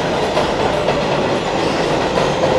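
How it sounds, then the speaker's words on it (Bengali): American subway train on the New York line between Manhattan and Queens pulling into a station platform, a loud continuous rumble of wheels and rail noise with no voices. "আরেকটা রেল ট্রেন চলে আসলো"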